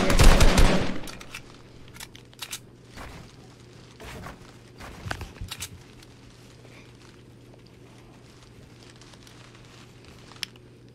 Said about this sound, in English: I'm shooting my AR at him